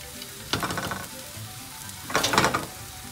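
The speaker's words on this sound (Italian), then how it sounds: "mettiamo un po' di olio, ma sì, uno spicchio d'aglio in camicia, facciamo rosolare" A garlic clove still in its skin sizzles in olive oil in a pan, with two distinct bursts of frying crackle separated by a quieter stretch, close and fairly loud.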